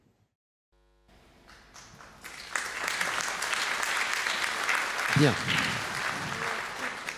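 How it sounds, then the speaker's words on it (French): A congress audience in a Paris hall breaks into applause that builds after a quiet start and then swells into a full, steady roar of clapping, with a brief spoken word near the beginning and a voice briefly audible partway through. "Merci pour vos applaudissements"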